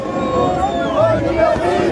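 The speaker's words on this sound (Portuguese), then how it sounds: "A torcida já está em êxtase aqui." Brazilian football crowd roaring in a stadium during the final minute of an América vs Inter match, a loud, dense wall of cheering and chanting voices with no clear single speaker.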